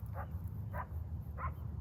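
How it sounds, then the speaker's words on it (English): A dog barks three times at a distance, evenly spaced, over a steady low outdoor rumble with no one talking. "You probably can hear that barking dog."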